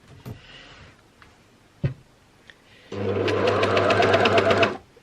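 A sewing machine stitches a trouser seam in one loud, rapid burst of about two seconds after a few soft handling taps and clicks.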